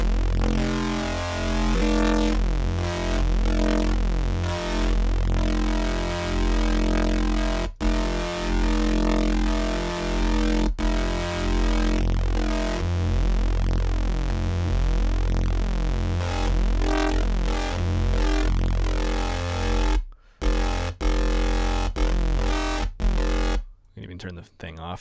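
A dirty reese bass patch built in Ableton Operator from triangle waves drones thick and distorted with warbling, detuned movement, loud and continuous, cutting out briefly near the end before returning.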